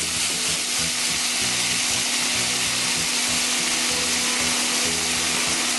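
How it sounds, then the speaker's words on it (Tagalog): Diced yellow onions and plum tomatoes sizzle steadily in a hot pan, a dense, continuous frying hiss with a low rhythmic hum beneath, no voices. "Lulutuin lang natin ito hanggang sa lumambot yung onions at yung tomato."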